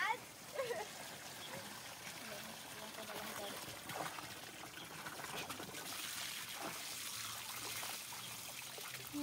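Water trickles and flows steadily outdoors in a rural province setting, a continuous close wash of running water with people talking over it.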